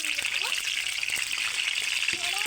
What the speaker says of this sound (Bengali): এটা কালো জিরে লঙ্কা ভাজতে দিয়েছি